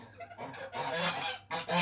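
Geese honking loudly and repeatedly, a nasal chorus of overlapping calls close by with a short pause before another burst.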